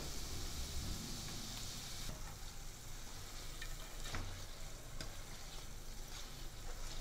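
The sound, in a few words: small gram-flour bhaji deep frying in oil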